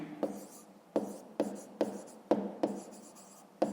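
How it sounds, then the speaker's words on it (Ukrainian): A pen writes by hand on paper for a math exercise, producing close, soft scratching strokes with sharp taps at regular intervals, about eight distinct marks over a few seconds, with no voice. "Так і записуємо"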